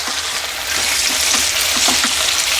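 Salted eggplant pieces being stirred in a pan while cooking for a fish curry, giving a steady close hiss and sizzle with soft scraping stir sounds throughout.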